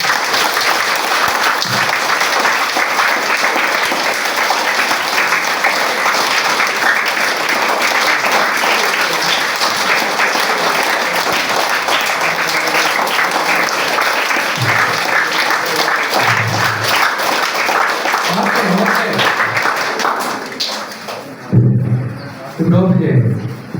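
A room full of students claps hard and continuously for about twenty seconds at a training session, dense and loud, before the applause breaks off and a voice starts speaking.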